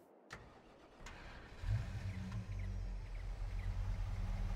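A truck engine in Farming Simulator 22 cranks with a few clicks, catches and settles into a steady, close idle rumble, with no talk.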